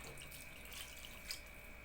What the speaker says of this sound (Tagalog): Magdadagdag tayo ng tubig.